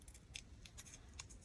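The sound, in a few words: scissors cutting paper stamp debris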